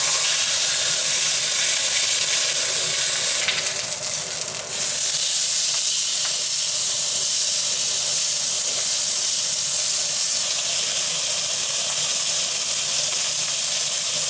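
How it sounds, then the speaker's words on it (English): A marinated pork loin chop sears in a very hot frying pan, giving off a loud, steady, close-up hiss and sizzle that runs unbroken the whole time, with a brief surge of spitting fat early on. "then we'll actually get the chop charred"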